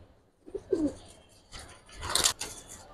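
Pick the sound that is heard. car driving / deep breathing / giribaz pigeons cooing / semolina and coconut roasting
giribaz pigeons cooing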